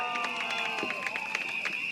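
Audience at a PAP election campaign rally in Tampines cheering and clapping for local speakers, a dense, steady crowd roar with a sustained bright tone running through it.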